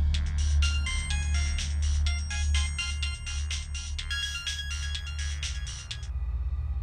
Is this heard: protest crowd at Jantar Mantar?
no